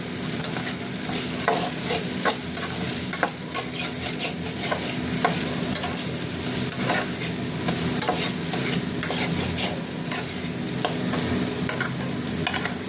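Peas and carrots sautéing in a pan over low gas, with a steady close sizzle and repeated scraping, clinking stirs throughout, no voices.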